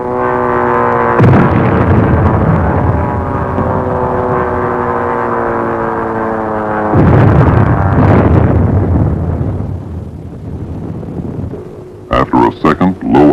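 Aerial bombs detonating against the captured battleship Ostfriesland during a bombing test: heavy booming blasts stand out over a constant low droning hum, with a cluster of sharp cracking bursts near the end.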